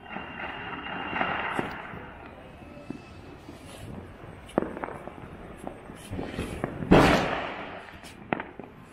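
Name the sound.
firecrackers going off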